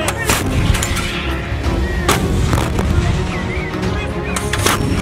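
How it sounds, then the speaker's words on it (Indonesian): A toy artillery missile launcher plays its sound effect: loud repeated booming blasts and crackling bursts over about five seconds, with a few sharp peaks standing out. "Wow, lihat, ini ada rudal artileri."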